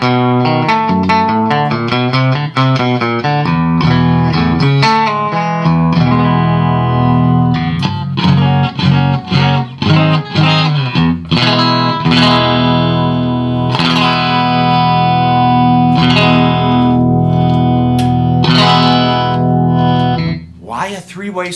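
Early-1980s Rickenbacker 425 electric guitar, a single-pickup model, played through effects with a distorted, chorused tone, sounding a steady run of bright plucked notes and ringing chords, loud and close throughout with no talking.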